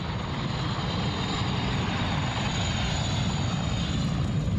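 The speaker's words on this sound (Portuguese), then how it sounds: "Helicópteros grandes," Large firefighting helicopters giving air support over a wildfire produce a steady, loud, continuous rotor and engine roar that fills the scene without pause, with no voices over it.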